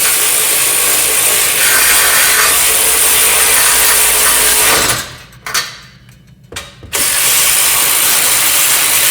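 Ratchet wrench snugging down the exhaust bolts on a GR Corolla while a Magnaflow exhaust front pipe is installed: steady rapid clicking for about five seconds, a brief pause with a few isolated clicks, then the clicking resumes, close and loud.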